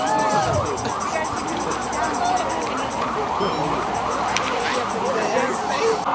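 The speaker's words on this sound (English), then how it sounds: "The ambulance passed by and then we'll keep moving." An ambulance siren wails along a city street during an outdoor vigil, its rising and falling tone carrying over a constant crowd murmur and traffic noise.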